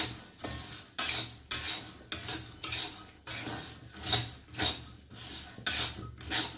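Steady hand stirring with a metal spoon in a cooking pot, scraping and clinking in a quick repeated rhythm of about two strokes per second, close and fairly loud with no talking.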